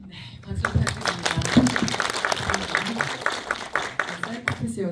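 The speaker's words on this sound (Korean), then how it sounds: "박수 부탁드립니다" Applause from the audience at a user preview screening of a short-form drama in a cinema hall, a thick patter of clapping running throughout, with voices speaking over it.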